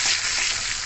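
Cloves and whole cumin frying in hot oil for a jackfruit seed dal, a dense, steady sizzle heard close and alone throughout.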